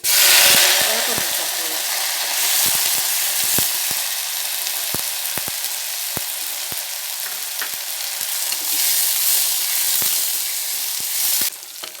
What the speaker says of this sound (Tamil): உளுத்தம் பருப்பு போட்டோடனே லேசாக பொரிய ஆரம்பித்தோடனே